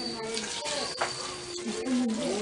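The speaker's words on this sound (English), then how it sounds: "And now we add hot water." Hot water poured into a cooking pot of sizzling onions, ginger and garlic for an Apayao duck dish, a short splashing gush under someone speaking.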